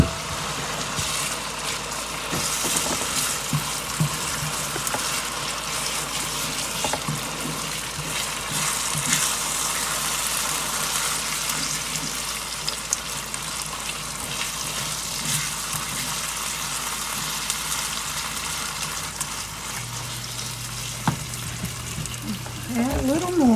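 A pot of fried-cornbread mixture boils and thickens on the stove, giving a continuous soft bubbling and sizzling hiss that stays steady and close throughout.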